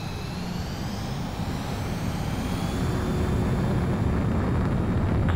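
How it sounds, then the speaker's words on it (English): A base commander's transport aircraft climbing after takeoff in Ace Combat 7, a steady, full engine roar that swells slightly louder as it goes on, with a faint high whine above it. "The base commander's transport craft has taken off."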